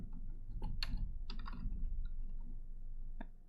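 Quick bursts of keystrokes on a computer keyboard, a few clustered clicks followed by sparse taps and a final isolated key press, quiet and close over low room hum.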